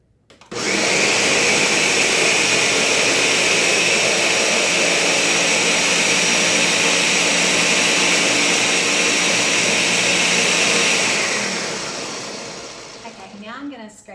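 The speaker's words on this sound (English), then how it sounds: "You want to let it go for like a full minute, because the more it blends, the more it gets air in it." A blender whirs continuously while mixing pumpkin spice Dutch baby batter, a loud, close, steady whine that runs for about ten seconds before winding down.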